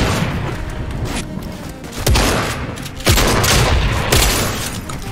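Gunfire in an online shooter video game, a loud rattling fusillade with several sharp booming shots spaced about a second apart over continuous background noise.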